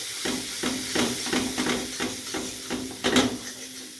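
Gram flour (besan) is stir-fried in a pan over low gas for a green pea dalna, with a steady sizzle broken by regular rhythmic scraping strokes of a spoon, close and fairly loud, slightly louder near the end.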